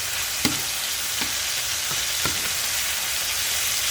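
Chicken pieces sizzle loudly in a hot pan after flipping, a steady close crackle with several soft taps from a utensil against the pan.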